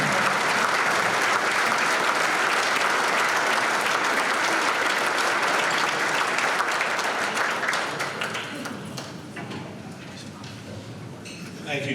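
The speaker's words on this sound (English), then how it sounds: "Please join me in a round of applause for UTEP Athletics Hall of Famer" Sustained audience applause at a UTEP Athletics Hall of Fame ceremony honoring an inductee, a full, even wash of clapping that thins and fades over the last few seconds.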